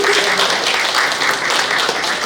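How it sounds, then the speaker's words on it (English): An audience at a forum applauds steadily and densely, a continuous wash of many hands clapping at close range with no voices standing out. "Let us now just another round of applause for just being in this presence."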